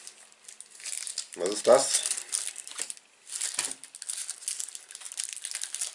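Oddly packed Blu-ray packaging is unwrapped with crinkling plastic and tearing, a burst of rustling followed by lighter crumpling, while a person speaks briefly over it.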